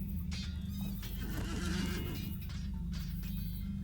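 A horse in a fantasy video game neighs while a mount is chosen, a steady whinny with faint clip-clop over a constant low background hum, fairly loud throughout.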